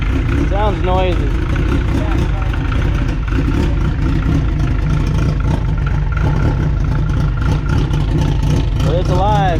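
A noisy Honda CRX engine runs continuously up close, a steady rough drone with slight rev changes, while voices speak over it.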